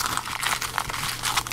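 Pokémon trading cards from an Ultra Beasts booster box being shuffled, a steady crisp papery rustle and flutter of card edges close up, continuous with no talk.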